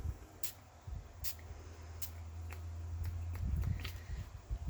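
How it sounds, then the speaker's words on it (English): Several short, sharp hisses of an ink spray bottle being pumped onto a mixed media journal cover, spaced irregularly over a low background hum. "I'm just going to take some ink sprays. I definitely want this grayish black."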